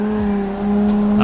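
A race car engine in a racing video game drones loudly at a steady high pitch, rising slightly toward the end of a short burst.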